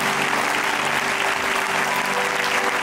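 Dense, loud applause from a church congregation fills the space continuously, many hands clapping at once with a faint hum underneath.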